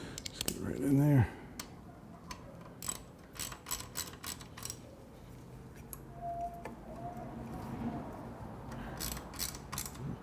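A 4mm Allen key works a bolt on a Triumph Bonneville during a rectifier, turn signal and headlight ear install, giving scattered light mechanical clicks and creaks over a quiet room, with a brief voice near the start.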